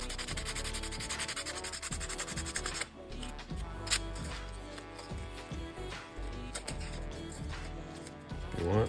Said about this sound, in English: Just some coarse sandpaper. You can clean up all these edges.